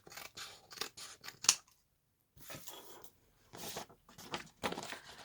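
Scissors snip through a paper window envelope in a run of short crisp cuts, close and fairly loud, with a brief pause midway before the cutting resumes.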